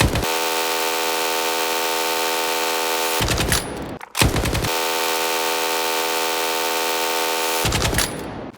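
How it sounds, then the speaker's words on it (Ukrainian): Two long bursts of rapid automatic gunfire in S.T.A.L.K.E.R. 2, each running for several seconds before stopping abruptly, loud and continuous. "Тут я не буду коригувати приціл, хай куди хоче, туди стріляє"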